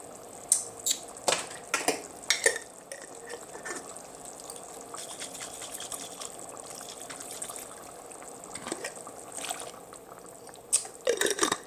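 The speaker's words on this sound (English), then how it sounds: "pour a little chicken broth in here and shake it around" Chicken broth poured into a jar coated with leftover sauce and shaken around, giving intermittent sloshing and dripping liquid sounds, louder bursts at the start and end with quieter trickles between.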